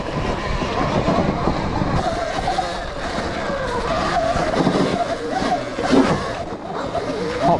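An electric Sur-Ron dirt bike's tyre slides and skids on a downhill, a rough scraping rush close by with surging bursts, while a voice talks over it.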